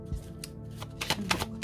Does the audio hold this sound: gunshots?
no